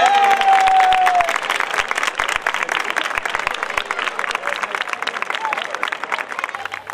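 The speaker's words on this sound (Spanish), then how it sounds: "¡Un fuerte aplauso!" Loud, sustained crowd applause fills the whole stretch, dense clapping from a large audience at a local awards announcement in Chiclana, Spain, with a brief tone early on and faint background voices.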